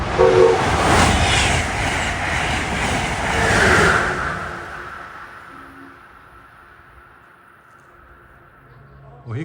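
A Keystone Service passenger train from New York to Harrisburg passes Princeton Junction, its loud rumble and wheel noise filling the first few seconds before receding into the distance, with a brief horn-like tone near the end.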